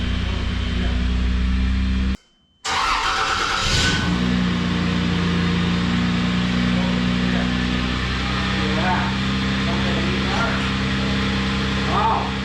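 A Toyota 80 Series Land Cruiser engine starts after a brief pause and settles into a steady, rumbling idle close by, with a few light revs, just after a downpipe exhaust repair.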